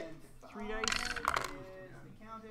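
Dice rattle and tumble across a tabletop during an X-Wing miniatures game, a dense clattering burst lasting under a second, close and fairly loud, with quiet voices before and after.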